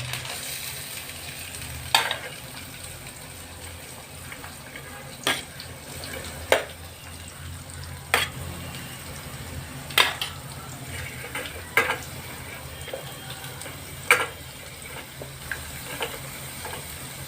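Chopped onions and small shallots fry with a steady sizzle in a pan for mutton curry, while a spoon scrapes and clinks against the pot at intervals, close by and with no one talking.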